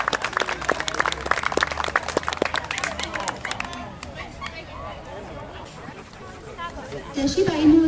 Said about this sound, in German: Ich bitte nochmal einen großen Applaus